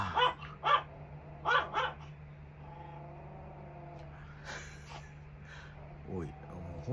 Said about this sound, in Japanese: おい、もう本当どこに向かって吠えてんだお前は。